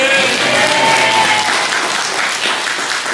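A church congregation breaks into loud, sustained applause at a pastor's celebration. The clapping is dense and continuous throughout, with faint voices mixed in.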